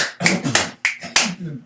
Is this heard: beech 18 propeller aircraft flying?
no